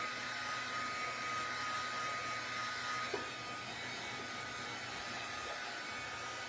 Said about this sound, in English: I'll hit it with the heat tool a little bit.